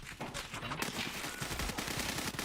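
Rapid bursts of PKM machine gun fire in Escape From Tarkov, a dense stream of sharp, loud shots across the whole stretch with no voices.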